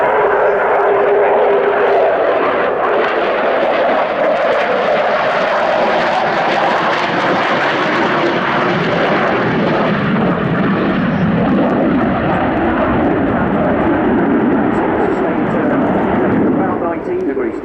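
A Sukhoi Su-27-P1M Flanker jet flying an aerial display roars loudly and continuously, its engine noise swelling and shifting in pitch as it passes, with a voice speaking over it.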